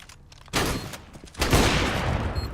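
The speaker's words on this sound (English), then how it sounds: "the hand cannon takes him down with 1 shot" A hand cannon fires during a Counter-Strike match. Two sharp, loud bursts of gunfire come close together, the second longer and heavier, with little else underneath.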